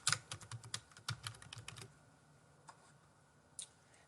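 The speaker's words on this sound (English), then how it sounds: "Type the words Typing Practice." Fingers type a short phrase on a computer keyboard in a quiet room: a quick run of crisp, close keystrokes, then a few scattered taps as the typing stops.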